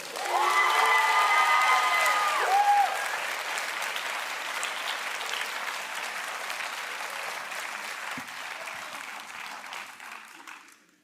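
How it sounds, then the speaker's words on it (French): An audience at a school event applauds loudly and steadily, the clapping holding strong for several seconds before slowly thinning and fading away. "un déferlement d'applaudissements pour Arkan Govri"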